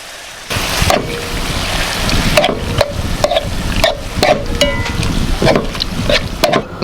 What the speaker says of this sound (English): After seasoning, first in is the conch and squid, because they will have the longest cook time